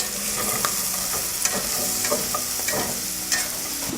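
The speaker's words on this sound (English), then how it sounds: "we're gonna make sure to mix it so that the fat just coats all of the mushroom and everything is cooked well together" Mushrooms, bacon and sausage fry in a pan with a dense, constant sizzle, punctuated by light scraping and clinking as they are stirred, close and steady.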